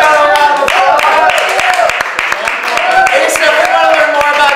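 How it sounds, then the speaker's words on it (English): A studio audience claps for a guest on a political panel show, with dense, fairly loud clapping running throughout and cheering voices mixed in. "give this fellow a round of applause."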